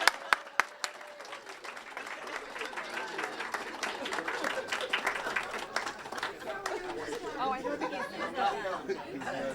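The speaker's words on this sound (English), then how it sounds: "you guys can give these guys a round of applause because they deserve it" At a Bridges to Careers graduation ceremony, the audience applauds the graduates: a few sharp early claps swell into sustained crowd clapping mixed with chatter, laughter and voices talking over the noise.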